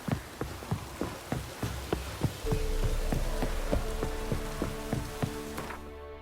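Rain falling in the video game The Witcher 3, with sharp drops and taps striking surfaces at an irregular pace over a soft steady patter, joined midway by a low sustained hum, with no talk.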